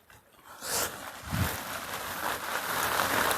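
Rain swells from near silence into a steady pattering wash on surfaces outside, growing louder and holding.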